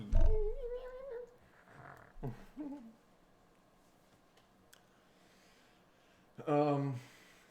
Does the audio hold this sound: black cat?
yes